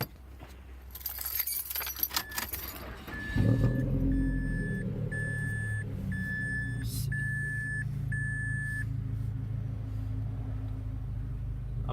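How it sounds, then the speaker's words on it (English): A first-generation Mazda 3 starts up after a fuel pump repair: keys jangle, the engine cranks and catches into a steady idle, and a chime beeps in an even rhythm above the running engine. "I'm gonna see how my car will start up."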